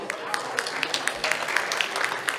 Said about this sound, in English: Please give a round of applause to Shaila.